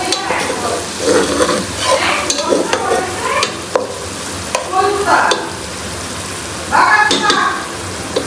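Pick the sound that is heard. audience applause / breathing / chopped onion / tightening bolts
chopped onion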